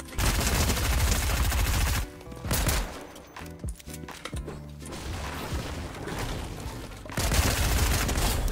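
Gunfire from a pistol and other weapons in a ranked Fortnite match, with loud, close bursts of rapid shots, a short lull with scattered pops and clanks, then another heavy volley.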